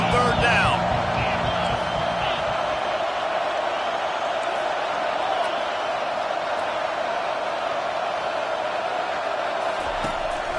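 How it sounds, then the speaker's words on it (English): Stadium crowd noise on third down in a Texas vs Oregon college football video game, a steady loud roar of cheering that holds through the whole stretch, with a brief bounce-like thump near the start. "Decibels rising as the crowd gets behind this defense on third down."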